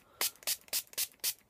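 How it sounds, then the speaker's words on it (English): A makeup sponge is sprayed with water from a spray bottle before blending L'Oreal Infallible foundation; five short, bright misting bursts come in quick, even succession, close and fairly quiet. "I'm just going to spray it"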